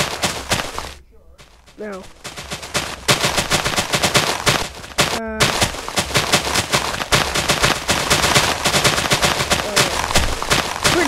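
Rapid, loud gunfire from a Minecraft party game runs almost continuously in dense machine-gun-like bursts, with voices talking and reacting over it.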